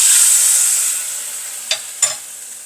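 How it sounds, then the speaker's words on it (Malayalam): Hot mustard seed tempering is poured into a Kerala-style moong dal curry, giving a loud sizzle that fades, followed by two sharp sputtering bursts. "ഇതാ നമ്മുടെ പരിപ്പ് കറി നമ്മൾ കടുക് വറുത്തതിനകത്തോട്ടൊന്ന് ഒഴിച്ച്"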